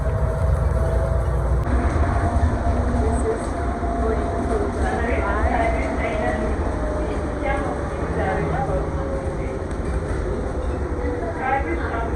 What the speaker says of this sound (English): The train is moving now to the gates.